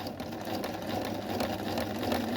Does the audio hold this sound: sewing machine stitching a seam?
yes